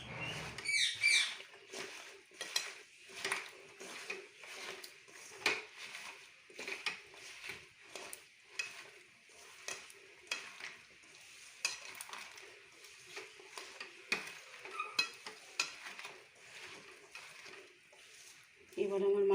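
Spices and ingredients for a Bengali-style raw fish curry are mixed by hand, giving a run of soft, repeated squelching and scraping taps in a bowl, fairly quiet, with someone talking intermittently throughout.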